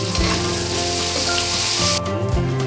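Garlic added to a pan of frying tomatoes and green chilies, sizzling loudly and steadily with a dense crackle that drops sharply near the end.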